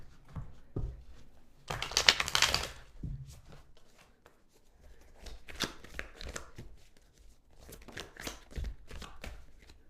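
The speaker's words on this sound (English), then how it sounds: "so I'm going to do some shuffling." Tarot cards are shuffled by hand in a quiet room, producing bursts of papery riffling and soft slaps in several rounds, with one louder, fuller riffle early and gentler card handling afterward.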